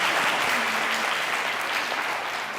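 Loud, dense applause from a studio audience at a comedy talk show, continuous and close throughout the short stretch.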